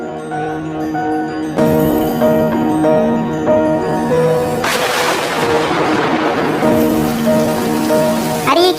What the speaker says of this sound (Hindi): अरे ये क्या, अचानक से तो बारिश होने लगी